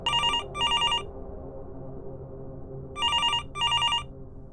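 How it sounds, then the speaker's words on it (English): A telephone bell rings loud and close in two bursts, each a double ring with a bright trilling tone, separated by a quiet pause over low background hum. "About an hour later, my phone rang."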